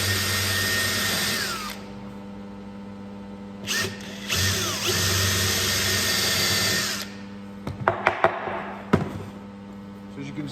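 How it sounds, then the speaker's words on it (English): A power drill bores holes in wood for shelf supports, two loud high whining runs of a couple of seconds each, then quieter handling clicks and knocks nearby. "So as you can see, I've drilled the hole in the outside 2 marks."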